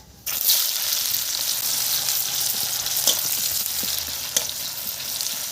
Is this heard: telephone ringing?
no